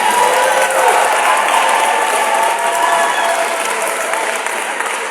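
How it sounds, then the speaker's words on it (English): Dense, sustained clapping from a large audience at a Society of Women Accountants of Nigeria gathering, loud and close, holding steady throughout with no pause. "Please continue clapping."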